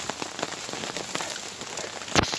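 Heavy rain hammers down on a wild camp among tombstones, a dense steady patter of drops striking a surface close by, with one louder thud near the end.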